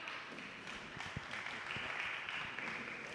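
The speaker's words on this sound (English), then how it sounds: "give John a round of applause" Steady applause from an audience at a ranked choice voting event, moderately loud and continuous with scattered individual claps standing out.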